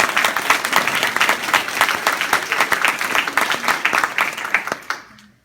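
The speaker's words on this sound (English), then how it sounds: "Give yourselves a round of applause." Rally crowd in Dallas applauding, dense steady clapping for about five seconds that fades out at the end.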